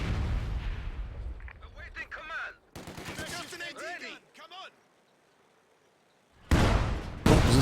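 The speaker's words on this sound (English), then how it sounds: "This gun barrage, pretty close range as well" Artillery gun barrage in the real-time strategy game Company of Heroes 2, with bursts of close-range gunfire and blasts broken by a quiet gap, then heavy loud impacts at the end, with talking over parts.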